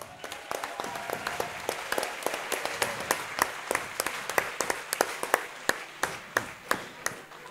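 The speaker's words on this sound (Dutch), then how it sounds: "Geweldig applaus." A theatre audience at a festival stage play claps in a steady stream, with sharp individual claps standing out near the front of a thinner background of applause that continues throughout.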